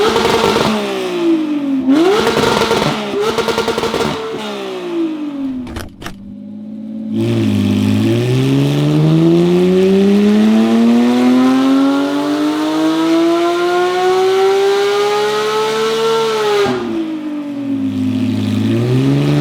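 Porsche GT3 with a manual gearbox revs hard on a dyno, loud close engine climbing through gear changes, then one long sustained pull rising in pitch before backing off.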